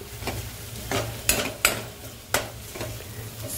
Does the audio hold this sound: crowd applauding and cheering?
no